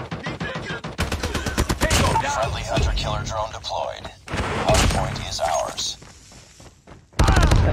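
Rapid bursts of automatic gunfire ring out in a Call of Duty Mobile hardpoint match, dense and loud, broken by short pauses, while a player talks over the shooting.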